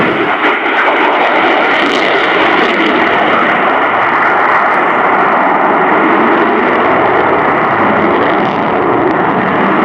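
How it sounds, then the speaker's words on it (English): A Sukhoi Su-27 Flanker fighter jet performing a flying display at RIAT 2018 produces a loud, continuous roar of jet engines that holds steady throughout, with no talking. "this is a huge aircraft, and it is flying at typical fast jet speeds"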